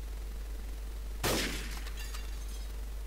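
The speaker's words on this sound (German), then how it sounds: "Du hättest erst das Glas zerschießen sollen" Glass shot and shattering in Trouble in Terrorist Town: a quiet hum, then a sudden sharp crash with a spray of tinkling shards that trails off over a second or two.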